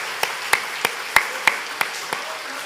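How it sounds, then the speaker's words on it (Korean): A few sparse, evenly spaced claps, about seven in all, ring out in a church hall for honoured elderly Korean War veterans. The claps are sharp but thin, with no voices over them. "우리 큰 박수로 한번 감사해 봐요"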